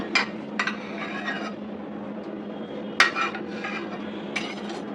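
A knife slices through an overripe sapodilla fruit outdoors on a rooftop in the morning, giving a few soft, sharp clicks and taps spaced apart over a steady low background hum.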